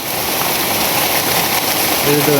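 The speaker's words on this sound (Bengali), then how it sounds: "প্রচুর পরিমাণে বৃষ্টি শুরু হয়েছে অনেক হঠাৎ করে" Heavy rain pours down suddenly as a dense, steady hiss that stays loud and close throughout, with a faint low hum underneath toward the end.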